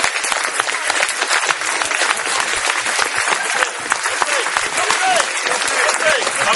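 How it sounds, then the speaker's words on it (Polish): A crowd at the official presentation of Kotwica Kołobrzeg, the 2009 Polish Cup-winning football club, applauds the club staff with loud, sustained clapping that carries on without a break, with some voices mixed into the ovation. "Wielkie brawa dla wszystkich osób związanych."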